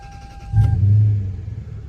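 A short chime plays, then a Lexus LS430's engine cranks via keyless push-button start and fires up with a brief rev before settling into a low, steady idle.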